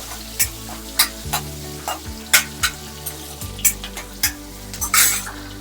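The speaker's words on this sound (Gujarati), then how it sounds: "કેપ્સિકમ થોડું કાળું માળું શેકવાનું સાતળવાનું" Capsicum sautéing in a pan for a Jain paneer cashew curry made without onion or garlic, a steady loud sizzle with rhythmic scraping stirs of a spoon about every half second, close up and without talk.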